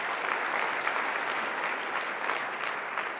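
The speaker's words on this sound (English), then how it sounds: "Let's give Eric Reed a round of applause if he is in here" Applause from an audience at a Play for All event runs as a steady, dense patter for about three seconds, fairly soft and continuous with no voices breaking through.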